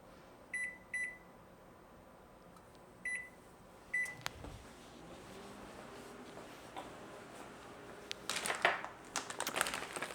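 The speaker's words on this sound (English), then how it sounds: "So about 20 to 30 seconds in the microwave" A microwave oven warming tortillas hums steadily in a kitchen, with several short beeps at the start and a door clunk, then faint clatter near the end.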